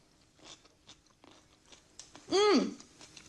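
A bite of Thai salad with crunchy cucumber and peanuts is chewed close up, with soft crunchy mouth sounds and one louder wet crunch near the end, quiet and without talking.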